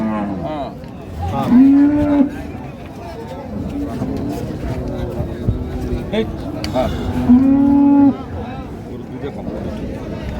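Dairy cattle moo twice at a livestock market, loud and close, each a long drawn-out low call several seconds apart, with background murmur between them.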